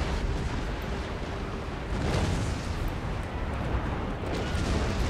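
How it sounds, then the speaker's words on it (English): Heavy cannon fire from a warship's rolling broadside in Empire Total War, a dense continuous roar of overlapping booms that swells after two seconds and keeps rumbling to the end with no talk. "we are going to fire a rolling broadside"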